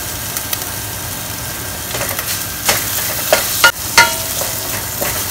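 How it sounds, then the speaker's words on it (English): Dry chilies fry in a hot wok with garlic, giving a steady soft sizzle with a few sharp scraping stir strokes and clatters toward the middle and end, fairly close, with no voices. "Fry them for a while until you smell all the aromas."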